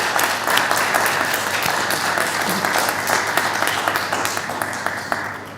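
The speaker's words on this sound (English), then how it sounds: "if I can get a big round of applause for our panel" An audience at a conference panel applauds steadily, a dense wash of clapping from many hands that holds throughout and fades slightly at the end.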